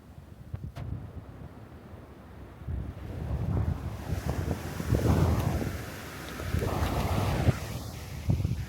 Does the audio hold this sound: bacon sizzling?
no